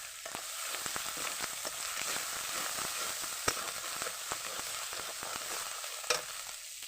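Spices for a potato and small rohu fish curry sizzle steadily in a hot pan, with salt and chilli powder stirred in; a continuous crackling fry is broken by occasional sharp scrapes and clicks of the spoon.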